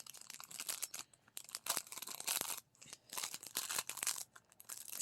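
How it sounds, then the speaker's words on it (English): Scissors cutting open a plastic bag, close and fairly quiet, with bursts of crinkling and snipping separated by short pauses. "I'm going to just have to cut it open."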